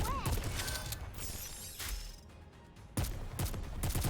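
A weapon reloads in Nikke: Goddess of Victory, with mechanical clicks and ratcheting. Gunfire bursts at the start and end frame a quieter gap that carries a faint whine. A voice speaks partly over it.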